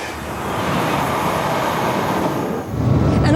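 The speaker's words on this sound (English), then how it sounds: "the train is accelerated or slowed down by another magnetic field" A magnetic levitation train in China passing with a loud, steady rushing roar that swells slightly near the end.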